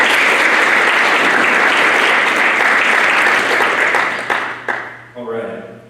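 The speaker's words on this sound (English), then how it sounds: "let's give them a round of applause" A crowd at a W Club networking event applauds loudly and steadily for several seconds, then the clapping thins and fades out near the end as a voice begins.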